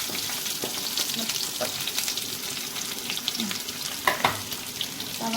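Chopped onions added after mustard seeds have popped fry in a pan with a continuous, moderately quiet sizzle and occasional soft stirring scrapes, no talking.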